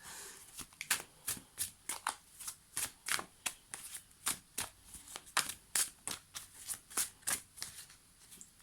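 Tarot cards being shuffled by hand, a quick run of crisp, close riffling bursts repeating at a steady rhythm, with no talking.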